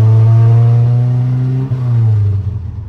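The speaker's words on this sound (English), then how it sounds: "get a quick sound clip for you so you can hear what it sounds like with the new header" A Nissan Hardbody pickup truck engine with a new exhaust header runs steadily with a raspy, ticking exhaust note close by, dipping briefly before settling into a rougher idle.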